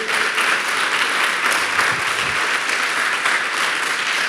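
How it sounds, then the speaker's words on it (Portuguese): Sustained applause from a church congregation, a dense steady wash of many hands clapping at a constant loud level throughout with no pauses. "pode aplaudir a palavra mesmo."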